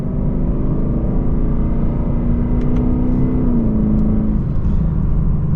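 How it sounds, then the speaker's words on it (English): A Lexus LC500 engine drones loudly and steadily, its pitch climbing slowly then dipping as the automatic transmission shifts, with a continuous close-up rumble. "that is a legitimately good sounding engine"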